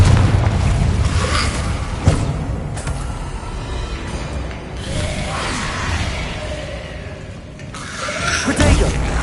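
Repeated Confringo spell blasts in Hogwarts Legacy, several heavy booming explosions spaced a couple of seconds apart, loud and close, with a few short spoken incantations between them.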